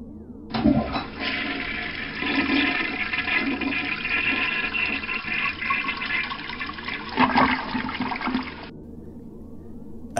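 A toilet flush sound effect: one loud, rushing swirl of water that runs steadily for about eight seconds and then stops abruptly, with no voices.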